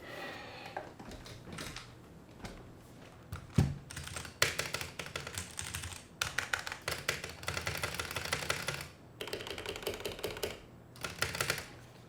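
Rapid clacky keystrokes on a 60% mechanical keyboard in uneven bursts with short pauses between, close up and fairly loud, with no voices.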